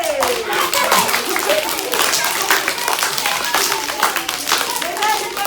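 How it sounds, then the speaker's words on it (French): An audience claps loudly and steadily at a French children's show, a dense, close patter of many hands with a few excited young voices and shouts mixed in. "je vous demande d'applaudir très très fort"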